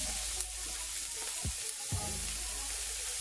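Vegetables with green beans frying steadily in a pan for vegetable fried rice, a continuous close sizzle with a couple of brief lower knocks partway through.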